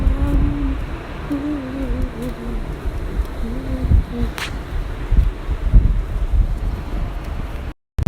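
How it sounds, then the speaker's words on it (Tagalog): Strong wind buffets the microphone with a steady low roar and gusty rumbles, while a person talks faintly underneath. "Sobrang hangin, liliparin ang bonnet ko doon."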